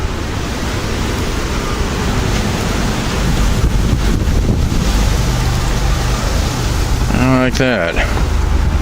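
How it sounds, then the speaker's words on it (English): Strong wind gusts roar during a November blizzard, a loud, constant buffeting that swells over the microphone and fills the whole clip. A voice speaks briefly near the end under the wind. "We're getting gusts, some pretty good gusts now and again."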